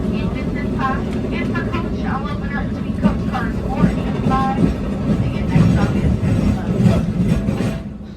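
Amtrak Talgo train rolling along the track, a steady single rhythmic rumble with no clickety-clack, heard from inside the car with some faint voices over the continuous running noise.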